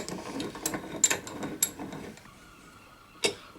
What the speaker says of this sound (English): put the nib in like this, put it in the clamp and squish it all together